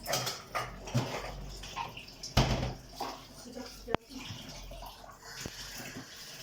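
Vegetables are soaked in a bowl of water, making close splashes, sloshing and dripping in uneven bursts, with a sharp knock midway and a person speaking over it.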